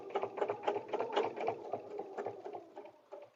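A sewing machine stitching quilt fabric for a paper-pieced butterfly dresser scarf, its needle chattering in a rapid, steady run that slows near the end, close and fairly quiet with no talk.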